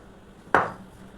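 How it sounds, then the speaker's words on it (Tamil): A knife cuts through fried chicken on a board, slicing it into medium pieces for a homemade cheesy chicken pizza; a single sharp, close chop lands alone against quiet room tone. "இப்போ நான் வந்து மீடியமாக தான் கட் பண்ணிகிட்ருக்கேன்."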